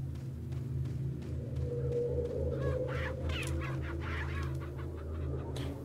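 A chicken clucks and squawks in the video game Resident Evil 4, a close, continuous run of bursts over a low humming game backdrop with no talking.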